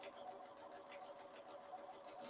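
A sewing machine runs a steady fast stitch along the edge of a quilt seam, giving an even rhythmic whir that is fairly quiet and close.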